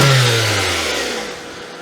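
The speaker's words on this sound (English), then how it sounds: "Let's try 2 real quick wraps with the gas pedal." A car engine revved with the gas pedal, a loud rising roar that peaks at once and then winds down gradually toward idle, with no voices over it.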